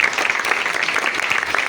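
A church congregation claps loudly and steadily in a dense, even wash of applause that holds for nearly two seconds.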